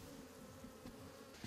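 Bees swarm around Langstroth beehives with movable frames, a steady low insect hum running continuously with no voices.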